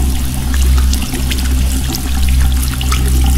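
A shower runs in the Among Us video game: a steady, close stream of falling water with an even hiss and a low hum beneath, with no break.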